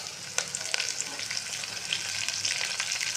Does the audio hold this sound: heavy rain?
no